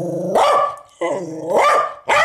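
A dog in a Naruto fan dub barks loudly and close in several rough, growly barks with brief pauses between them, with no talk over it.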